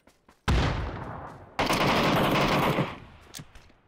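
PUBG gunfire rings out in two dense automatic bursts, the first short and sharp, the second longer and sustained, loud and close with no talk over it.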